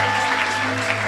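A church congregation claps and cheers in steady, dense applause, loud and close, filling the short moment without a pause.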